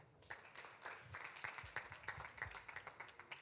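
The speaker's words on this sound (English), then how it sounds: "Round of applause." Scattered, fairly faint claps come from an audience at a food systems pitch day in Uganda, forming a short, uneven round of applause with distinct individual claps.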